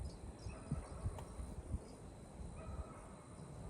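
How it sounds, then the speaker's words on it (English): Crickets chirr faintly in a garden, a thin, steady high trill running beneath quiet outdoor background noise. A few soft low thumps occur early on, and no one speaks. "Y'all hear those crickets?"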